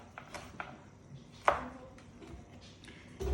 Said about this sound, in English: I am just going to simply julienne them into thinner slices, lengthwise like this